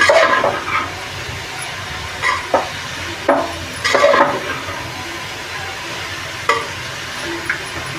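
Grated carrots for gajar halwa are stirred and sautéed in a pan over a raised gas flame, with a low sizzle under repeated scraping and clinking strokes of the spoon at an irregular pace.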